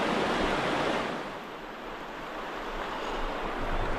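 A mountain stream in Grand Teton National Park rushes around rocks, a steady close broadband roar of flowing water with no other sounds.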